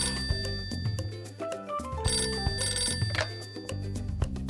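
Telephone ringing in a bright, musical jingle pattern that repeats over background music, loud and close, in a live-action children's show.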